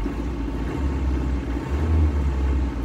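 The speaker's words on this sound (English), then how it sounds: "That's not bad for an old diesel." The turbo diesel engine of an old Land Rover Defender 90 idles just after a cold startup, a close, steady low rumble with slight uneven pulsing and no voices.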